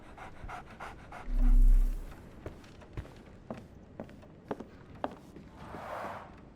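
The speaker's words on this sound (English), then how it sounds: "So, Barnes has a dog now." A dog in the Sherlock Holmes: The Awakened game pants in quick, steady breaths close by, with soft footstep-like thumps scattered through and no talking.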